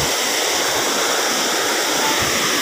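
Water rushes from a stream source, a loud, continuous broadband roar of flowing water heard up close and alone, without talk.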